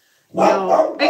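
A dog barks loudly up close, one long harsh bark followed quickly by a second, with a brief spoken word at the start.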